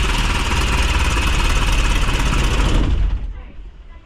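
Flood-damaged Hyundai H-100 van engine running roughly, a loud, close, uneven low rumble with a pulsing knock that cuts out and dies away near the end.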